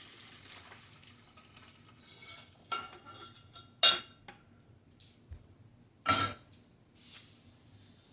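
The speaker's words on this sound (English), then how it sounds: "I got my melted laundry bar of soap that I'm going to mix in here." Melted laundry bar soap is stirred into a 5-gallon bucket of warm water, with scattered clinks and scrapes of the stirring tool against the bucket and soft sloshing between them, no talking.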